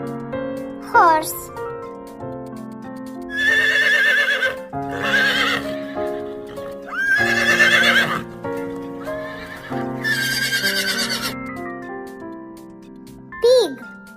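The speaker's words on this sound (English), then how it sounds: "Horse." Horse whinnies several times in a nursery-style sequence of farm animal sounds, loud and close, with hoof clip-clop between calls and a voice briefly speaking.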